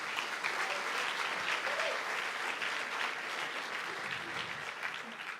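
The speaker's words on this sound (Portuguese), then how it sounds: "Dê uma salva de palmas a Jesus." A church congregation bursts into sustained, dense applause that fills the space steadily from start to finish, with no speech over it.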